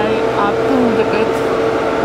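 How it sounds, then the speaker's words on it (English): A constant tractor engine drone with low rumbling fills the background nearby after delivering feed, steady throughout, with faint tonal whines over it. "Sorry about the noise, the tractor that delivered the feed."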